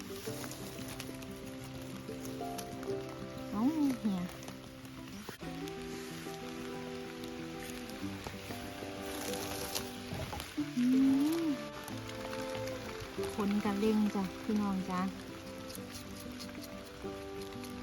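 Rain falls steadily on a forest during mushroom foraging, a soft, constant patter under people talking, with occasional louder bursts.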